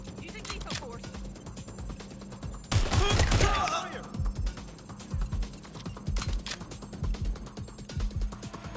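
Gunfire in the video game Watch Dogs Legion: a loud, dense burst of shots erupts midway, surrounded by scattered sharper cracks and mechanical clicks against a low background hum.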